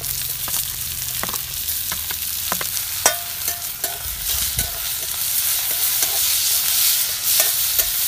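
Onion and tomato frying in well-heated oil, a steady dense sizzle with clicks and scrapes of stirring throughout, fairly close and loud, no voices.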